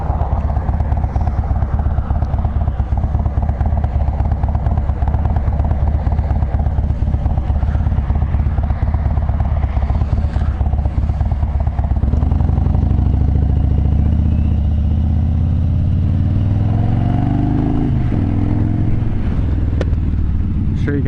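A 2016 Harley-Davidson Dyna Wide Glide rumbles steadily on the road. The loud, continuous engine drone carries wind buffeting, and the note rises and shifts near the end as the bike changes speed.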